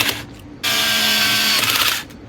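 A 2.5 mm hex driver is hand-tightening a screw on a Tekno EB48 2.2 1/8-scale buggy front clip, giving a close, steady ratcheting whir that runs for about a second and a half after a brief click.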